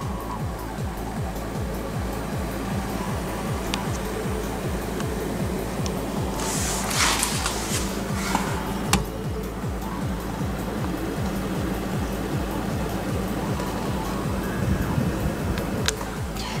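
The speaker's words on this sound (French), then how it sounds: "Donc ça c'est ventilo à fond." A PC case fan runs at full speed, giving a constant close whoosh of rushing air with a faint steady low throb underneath and a few small clicks, with no talk.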